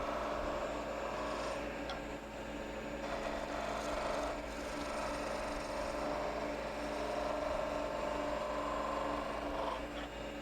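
A skew chisel takes a light cut on wood spinning on a lathe, giving a steady, close rasping hiss over the low hum of the turning machine, with no talk.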